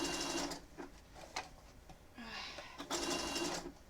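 Domestic sewing machine stitching a Pokémon appliqué quilt, running in close, loud bursts of rapid mechanical whirring that stop and restart between short pauses.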